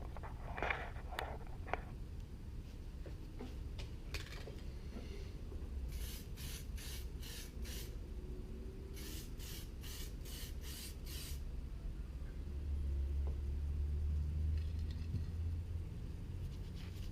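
Spray gun applying sterling metallic silver D6S base coat to Toyota 86 GTS interior trim, heard as two clusters of short, rhythmic hissing bursts over a steady low room rumble.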